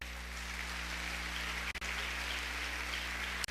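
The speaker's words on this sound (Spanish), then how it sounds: "¿Puedes dar un aplauso a Dios?" Church congregation applauding, a steady, dense wash of many hands clapping together at a moderate distance, unbroken except for two brief dropouts in the sound.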